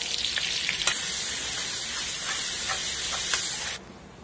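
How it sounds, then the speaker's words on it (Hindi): Oil and butter heat in a kadhai on a gas stove, giving a continuous close hiss and sizzle with small crackles that cuts off abruptly near the end. "कढ़ाई गर्म होते ही इसमें 2 से 3 चम्मच तेल डालिए और अपना बचा हुआ सारा बटर डाल दें।"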